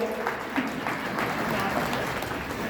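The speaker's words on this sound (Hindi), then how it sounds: "हाँ, ताली बजा लो।" Clapping from a large gathering at a Ram Katha religious discourse in Jabalpur, a muffled, fairly soft burst of many hands running steadily for a few seconds with crowd murmur beneath.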